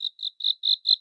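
Cricket chirps as a sound effect, five even, high-pitched trills pulsing at a steady rhythm, clear and close with nothing else behind them.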